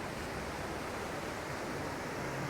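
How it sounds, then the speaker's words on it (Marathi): Sea waves roll onto a beach in Goa as a continuous broad wash of surf noise, even and moderately faint, with no voices. "सुंदर समुद्रकिनारा आहे हा."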